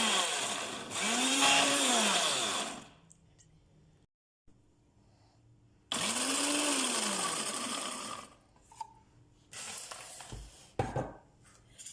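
A blender grinds a mixture of onion, garlic and lemon with no water added. It runs in two loud whirring bursts separated by a quiet pause, then a few softer knocks and clatters.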